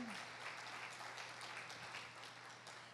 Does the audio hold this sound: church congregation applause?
yes